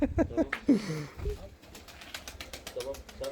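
Pigeons in a backyard coop coo and flap their wings as a child chases them into flight, with a burst of fluttering wingbeats in the second half, all under nearby talk.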